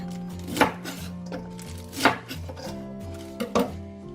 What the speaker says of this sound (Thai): เดี๋ยวอุจะหั่นก้านนะ สั้นหน่อยนะ